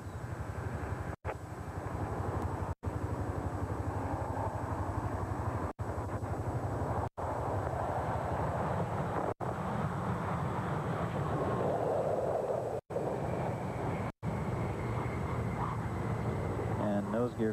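Space Shuttle Columbia touching down on a runway and rolling out after its orbital mission, heard as a loud, sustained roar and rumble, broken by short dropouts, with a commentator talking over it.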